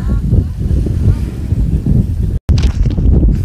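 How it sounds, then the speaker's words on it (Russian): Cold, biting wind at sea near Ras Muhammad in Egypt buffets the microphone with heavy low rumbling gusts throughout, broken by a brief dropout near the end. "Ветер такой пронизывающий, ледяной."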